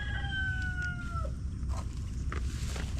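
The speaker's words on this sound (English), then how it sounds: "That's why the rooster is just going on and on." A rooster crows once in a suburb just before sunrise beside a drain, a long drawn-out call that fades into faint distant chirps and a low steady background hum.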